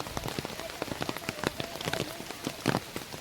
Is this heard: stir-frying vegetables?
no